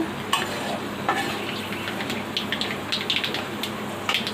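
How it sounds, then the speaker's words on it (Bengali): Yellow mustard seeds and dry red chillies tempering in hot oil for dal, a close, continuous sizzle with scattered sharp pops and spatters throughout, no talking. "এই সাদা সর্ষে দিয়ে ফোড়ন দিয়ে দিলাম।"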